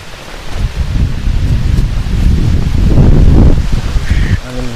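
Wind gusting at a campsite in heavy rain, a loud continuous broadband rush that swells toward the middle and stays near and steady, with a short voice at the very end.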